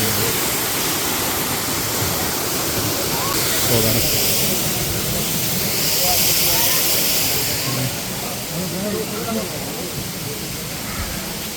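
Water pours steadily down the Manikyadhara waterfall, a clean stream dropping from above, heard as a loud, unbroken broadband rush close by with no clear voices over it.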